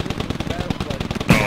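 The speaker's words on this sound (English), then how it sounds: "Is that a machine gun?" Rapid machine gun bursts crackle in a fast, continuous rhythm during a firefight in the military shooter game Squad, loud and close, ending in a sharper blast.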